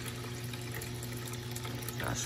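Steady stream of water pouring into an aquarium from a failed Tunze Osmolator Pro auto top-off, a constant close rush of flowing water throughout.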